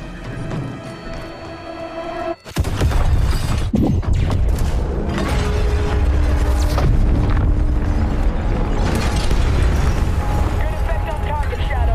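A loud game explosion from a lit fuse in Call of Duty Modern Warfare bursts in suddenly after a quieter opening, followed by sustained rumbling, crashing debris and mechanical clatter.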